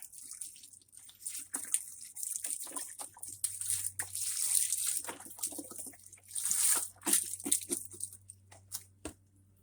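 Water pouring steadily into a soup pot of chicken broth for cabbage soup, with a hissing stream, irregular splashes and clinks, and a low hum in the background.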